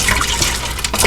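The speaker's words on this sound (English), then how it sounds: "Stir it a little bit." Noodles are stirred into chicken soup in a pressure cooker, giving a brief close wet sloshing and swirling of liquid with a few light clinks.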